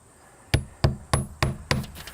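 Hammer blows driving nails into siding trim: five sharp, evenly spaced strikes roughly a third of a second apart, close and clear with a quick ring after each hit and no talking.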